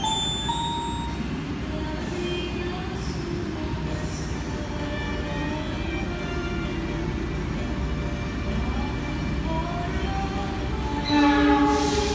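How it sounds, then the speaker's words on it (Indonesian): Argo Wilis passenger train pulling into a station platform, a steady rumble of rolling cars under station ambience, with a short chime near the start and a swelling horn-like tone toward the end. "jalur 2 dari arah barat akan segera masuk kereta api ARGO WILIS"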